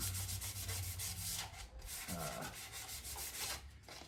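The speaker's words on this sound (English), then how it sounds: "don't feel too bad about using the palm sander there" A palm sander buzzes steadily against pallet wood, with a continuous rough rubbing hiss that wavers slightly in strength.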